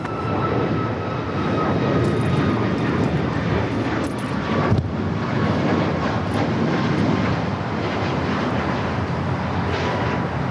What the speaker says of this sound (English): That is Alaska Airlines 1315 taking off to Portland on the MAX 9.